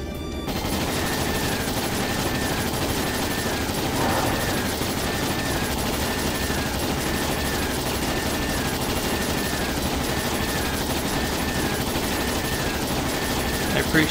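Ships unleash a fusillade of rapid gunfire in the video game Trails in the Sky, a continuous rattling barrage of repeated shots with occasional heavier booms layered over a busy game soundscape.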